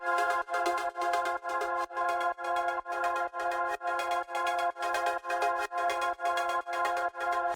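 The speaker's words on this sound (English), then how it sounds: "I took a gated pad and a normal pad that sounds like this." Sustained synth pad chords chopped into a steady rhythmic gate, pulsing on and off about twice per second, layered with a smooth ungated pad; no voices.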